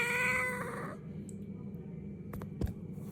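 A pet cat meows at home, a clear, drawn-out call in the first second, close and alone, followed by quiet room noise and a couple of faint clicks.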